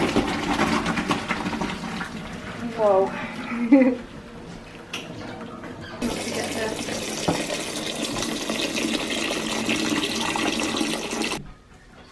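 Cooked pasta shells being drained while cooking, water pouring and splashing steadily for several seconds and then stopping abruptly, with a brief exclamation early on.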